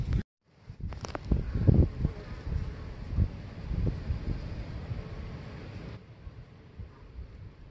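Honeybees buzz around a hive entrance as they carry in pollen, a low, steady droning of several insects close to the microphone, with light wind noise and a few louder passes.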